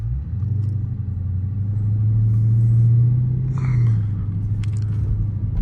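A 2023 Dodge Charger Scat Pack "Last Call" V8 pulls away from a stop in automatic, its deep engine rumble swelling steadily as it accelerates, loud and close, with no talking over it.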